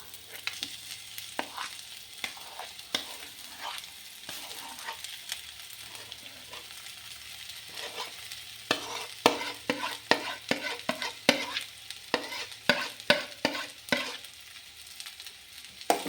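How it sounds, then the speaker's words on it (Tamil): Potatoes fry in a pan for a stuffed bread bonda, a soft steady sizzle under repeated scraping and stirring strokes that grow quicker and louder toward the end, with no one talking. "இப்போ நம்ம உருளைக்கிழங்கு அதில் போட்டுடலாம்"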